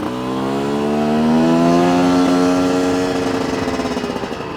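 A Chinese dirt bike engine drones steadily while riding in fourth gear, its pitch rising gently and then holding and easing off, close and loud with no talking.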